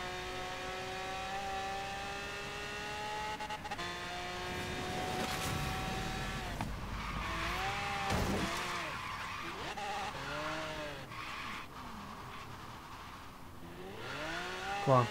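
Race cars in the Forza Horizon 3 Hot Wheels add-on skid and rev in a game, with layered engine tones swooping up and down, several tire-screech bursts and a louder surge at the end, steady and close throughout.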